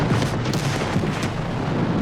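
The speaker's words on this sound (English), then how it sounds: "In just 2 minutes, the flammable vapor cloud found an ignition source and exploded." Flammable vapor cloud exploding at a chemical facility, heard as a loud, sustained roaring blast rumble with broad crackling noise that stays strong for about two seconds.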